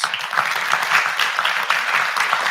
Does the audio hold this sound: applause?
yes